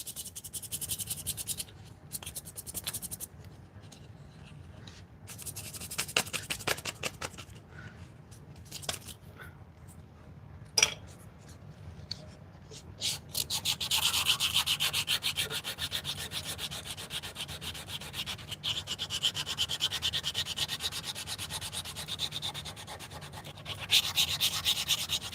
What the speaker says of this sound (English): I would rather sand a little bit longer with this 220